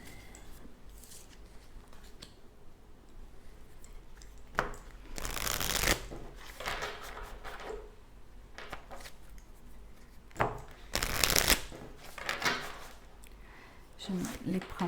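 Tarot cards shuffled by hand during a French-language reading, producing two loud bursts of riffling and flicking around the middle and end, with softer handling in between and someone speaking nearby.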